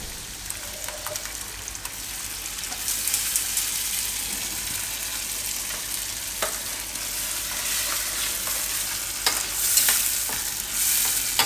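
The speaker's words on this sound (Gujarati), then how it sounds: "તો હવે આમાં આપણે આ જે ગ્રેવી પીસી હતી ટમેટાની એ નાખી દઉં." Ground tomato gravy goes into a hot pan of tomato paneer and is stirred over a low flame, giving a soft, steady sizzle with scraping strokes for several seconds.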